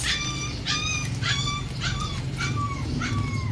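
Several dogs yip and bark over and over in a dark setting, the sharp high cries repeating about every half second over a constant low rumbling background.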